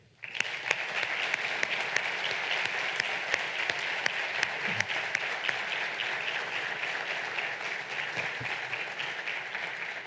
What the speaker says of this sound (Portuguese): pedir uma salva de palmas para um homem que foi mesmo Academia do primeiro ao último dia